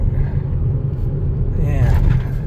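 A lifted truck rolls along at about 40 miles per hour, its deep road rumble and engine drone steady and close, with someone talking over it.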